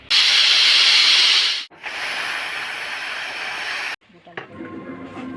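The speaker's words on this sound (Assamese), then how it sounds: "এটা কুকাৰ আমাৰ চিটি মাৰিবই" Pressure cooker whistle while cooking chole, two loud hissing bursts of escaping steam separated by a short break, then quieter kitchen sounds as a voice speaks.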